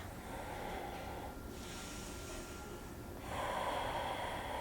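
Slow, deep breaths drawn during a seated yoga forward fold, a steady airy hiss that swells and eases over several seconds, close and alone without talk.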